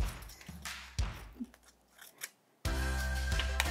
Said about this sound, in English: Some of the techniques could be to cut the paper into different strips.